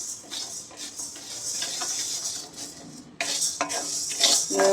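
A spatula scrapes and clinks against a pan as urad dal is stirred and dry-roasted until brownish, the steady scraping rising and falling with a few sharper metallic knocks near the end.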